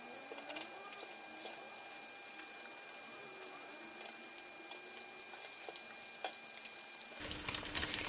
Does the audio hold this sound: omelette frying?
yes